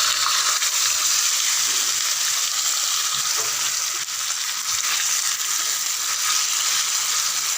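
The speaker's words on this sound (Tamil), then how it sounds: "2 குழம்பு கரண்டி அளவுக்கு எண்ணெய் விட்டுருக்கேன். 2 கரண்டி நம்ம ஊற வச்சுருக்க சிக்கனை அப்படியே சேர்த்துருங்க." Marinated chicken for biryani hits hot oil in a pan and sizzles loudly and steadily, a dense hissing fry with faint stirring scrapes and no voices.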